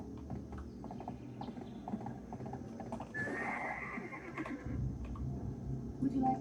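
A horse in the video game Path of Exile neighs in a clear whinny over clip-clopping hooves, mixed with faint clicking and quiet game ambience at a low overall level.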